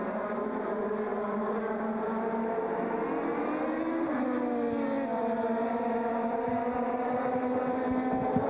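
Formula 3000 race cars at Monza during a 2001 international series race drone past continuously, layered engine whines shifting pitch as they accelerate, loud and steady with no talk.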